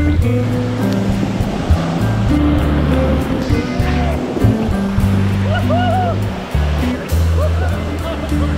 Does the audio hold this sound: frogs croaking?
no